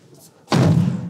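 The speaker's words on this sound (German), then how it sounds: "Ich reiße mal einmal die Tür zu." A car door is pulled shut hard, a single loud, close thud with a short booming decay after a brief quiet moment.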